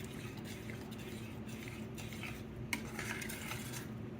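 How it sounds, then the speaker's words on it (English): Milk being gradually added to a thick sauce in a pot while it is stirred, with steady clinking and scraping of a utensil against the pot over a constant low bubbling rumble, plus one sharp clink. "So now you just start gradually adding the rest of the milk in there and stir it up again."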